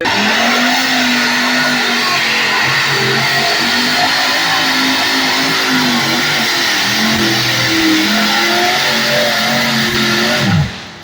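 Loud engines of a twin-engine pulling tractor at an NTPA pull in Dorr, Michigan roar and rev continuously, the pitch wavering up and down, before the sound drops away abruptly at the very end.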